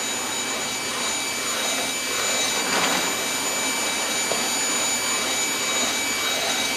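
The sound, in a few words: coffee roaster running with beans inside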